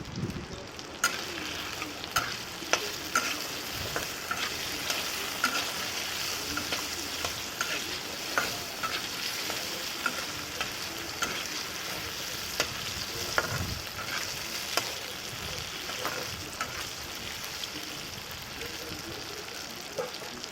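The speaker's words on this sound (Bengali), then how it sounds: "আলুখিনি আমি বিশেষ অলপ ভাজিম বেছি নাভাজোঁ" Potatoes fry in hot oil in a pan while being stirred, a steady close sizzle broken by regular scraping and clinking strokes of the utensil, with no talking.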